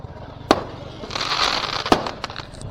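Diwali firecrackers burst in two sharp, loud bangs about a second and a half apart, with crackling and hiss filling the gap between them and smaller pops trailing off afterward.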